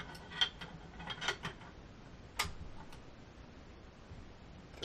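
Metal parts of an M1 Garand rifle being threaded back together during reassembly: faint, close clicks and ticks of steel on steel, a few scattered taps and one sharper click midway, in a quiet room with no talk.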